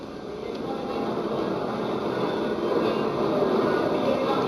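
A steady, loud rumble and roar of an electric train running through underground tunnels, a continuous rolling noise that builds slightly over several seconds.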